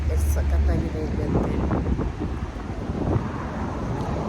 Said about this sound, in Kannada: ಒಳ್ಳೆ ಗಾಳಿ ಇವತ್ತು